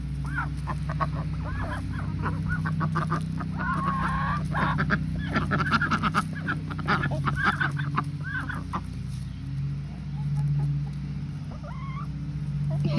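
Several ducks honk and quack in the background, irregular calls rising and falling over a steady low hum.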